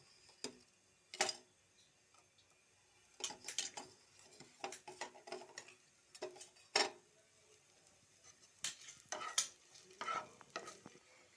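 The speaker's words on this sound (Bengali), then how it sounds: "দেখো ক্যাপসিকামটা একটুখানি ভাজা হচ্ছে" Chopped capsicum fries in a little oil in a pan, giving soft sizzling with scattered sharp stirring clicks and scrapes of a spoon against the pan, close but quiet.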